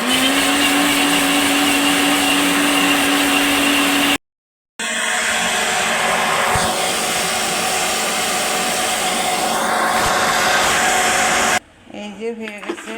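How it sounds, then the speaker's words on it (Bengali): Electric blender whirring through raw mango juice, a loud steady motor whine with a brief pause and restart, ending with a few faint clinks. "এবার আমি ব্লেন্ডারে ব্লেন্ড করব।"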